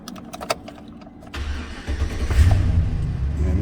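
2008 GM 1500 truck with a 5.3 engine cranks briefly after a key cycle, then catches and starts, settling into a rough, loud close idle with low rumble and slight surging.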